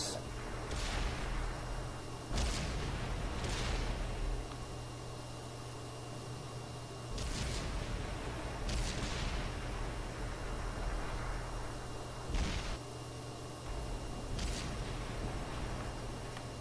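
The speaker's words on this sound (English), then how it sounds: "The shots are coming into the side from the AMX Chaffee over there." An AMX Chaffee tank fires during a video game battle, sending several booming shots at irregular intervals through a constant, noisy game soundscape with a low hum beneath.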